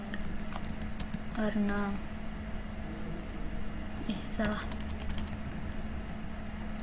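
Keys on a computer keyboard clatter steadily as a mail command is typed into a Linux Ubuntu 20.04 terminal, the quick taps running continuously beneath a person speaking.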